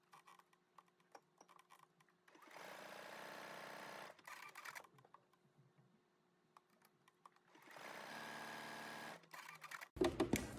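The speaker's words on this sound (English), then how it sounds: "I'm going to keep doing this on my sewing machine" A home sewing machine stitches a 1/4 inch seam on fabric for girls' underwear, running close by in several bursts: two long runs and a few short ones, with quiet pauses between.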